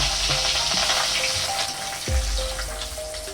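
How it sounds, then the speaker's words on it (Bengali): Fish pieces frying in smoking-hot oil in a wok give a loud, close, steady sizzle that runs without a break, with a few brief bubbling surges as the pieces settle in the oil. "তেল গরম হয়ে গেছে, এবার আমি একটা একটা করে মাছগুলো ছেড়ে নিচ্ছি ভাজার জন্য"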